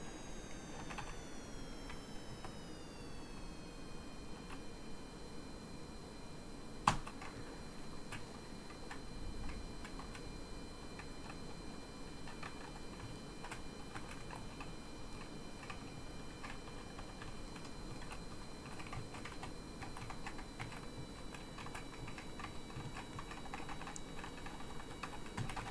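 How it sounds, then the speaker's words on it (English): Computer keyboard keys clatter in a rapid, irregular stream of close ticks and taps while steering a finicky craft in a flight game, with one sharper click partway through and a soft steady hum beneath. "I swear this isn't a keyboard ASMR channel"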